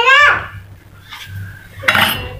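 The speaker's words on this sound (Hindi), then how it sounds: "सारे बर्तन इकट्ठे करो," Kitchen dishes and utensils being gathered up in a home, with clinking pots, plates and cutlery rattling in short bursts at the start and end, near and fairly loud, with faint background murmur.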